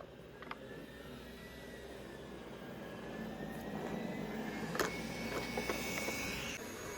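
A mini robot vacuum cleaner bought from AliExpress runs steadily on a floor, a faint continuous motor whir with a thin high whine and a few light clicks and bumps, no talking.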